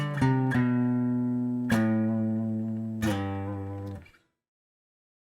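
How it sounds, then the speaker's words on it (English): A musical scale in G played as a mode on a sustained, tuned instrument, four clear notes each ringing and slowly decaying before silence. "All we did was play a mode. We played the scale, and we got a song."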